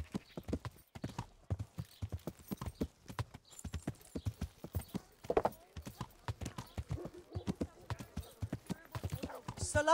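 Hooves of a horse clop steadily through a town in Kingdom Come Deliverance, a fast, regular trot of close, loud strikes that keeps going throughout.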